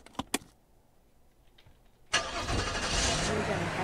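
In the video game Streamer Life Simulator, two quick clicks sound before a car engine cranks and catches abruptly, then settles into a steady idle rumble.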